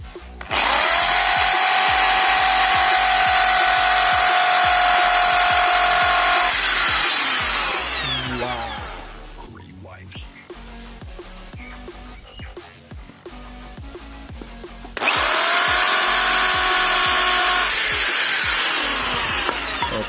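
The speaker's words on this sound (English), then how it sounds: "so I'm going to drill it over here and here and here" A power drill with a spade bit bores into wood in two long, loud runs, whining steadily while it cuts, with a quieter stretch of rattling in between.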